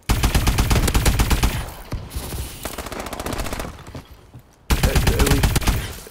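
The AE4 directed-energy gun in Call of Duty: Advanced Warfare fires loud rapid automatic bursts with a fast, even pulse. A first long volley is followed by a quieter gap, then a second burst close up with no talking.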